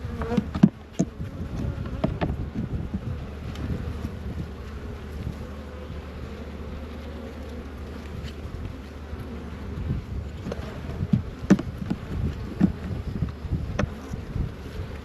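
Honey bees buzz in a dense, continuous hum around open hive frames in a cantaloupe field, close and steady throughout, with scattered sharper fly-bys and light clicks from the frames being handled.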